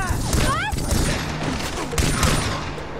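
A quick string of loud gunshots in Far Cry 3, sharp cracks spaced irregularly over a few seconds, with a voice talking over them.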